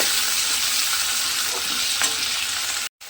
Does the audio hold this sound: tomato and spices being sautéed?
yes